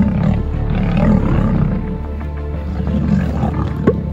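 A pride of lions roars in the wild while confronting a crocodile, a deep, loud, continuous rumbling that swells and dips over a few seconds with no talk.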